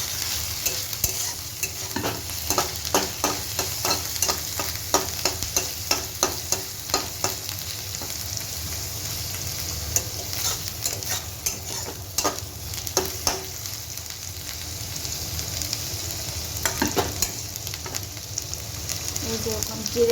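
Ground spice paste of cumin, ginger and green chili being stirred and fried in a pan for a fish curry, rhythmic spatula scrapes and taps over a continuous sizzle, close and moderately loud, without talking.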